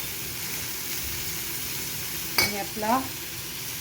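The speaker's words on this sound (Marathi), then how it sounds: "शिजवून घेतलेली भाजी घालायची. गॅस लो करून घालूया सर्व." Cooked banana flower vegetable tips into a pan on low heat with a soft steady sizzle and one brief clatter, while a voice talks briefly near the end.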